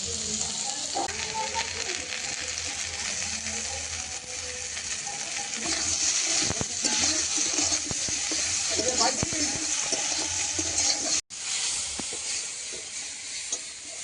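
Raw papaya with green chillies, cumin paste, salt and turmeric frying in a pan as water goes in, giving a strong bubbling sizzle with stirring scrapes under someone talking, briefly cut by a sharp break near the end.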